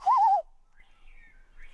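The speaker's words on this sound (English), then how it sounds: "That bird back there. What are they saying?" A single bird call sounds outdoors: a clear, wavering hoot-like note close by, followed by fainter, thin chirps from farther away in a quiet setting.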